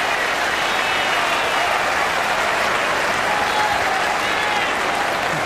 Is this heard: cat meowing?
no